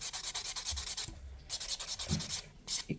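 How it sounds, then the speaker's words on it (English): Buffing block rubbing back and forth over dip powder nails, a quick run of short, rhythmic scratchy strokes close by, with brief pauses between bursts. "can really give that a good buff to get all of those bumps out"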